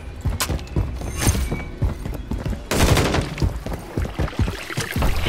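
Gunfire in Call of Duty with irregular bursts and scattered shots, loud and close, crowding together with the sounds of a chaotic firefight.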